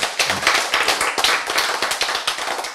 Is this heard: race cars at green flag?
no